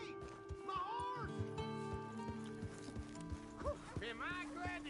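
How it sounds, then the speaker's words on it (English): A horse in the Red Dead Redemption 2 video game gives several clip-clopping hoof steps and a short whinny, mixed with game sounds and voices talking. "Hey! My horse!"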